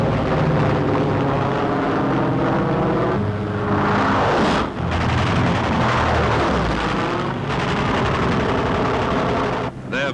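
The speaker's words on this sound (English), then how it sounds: "the Thunderbolts peel off to intercept" P-47 Thunderbolt fighter planes roar in to intercept, a loud continuous wartime engine drone with swelling, sweeping passes close overhead.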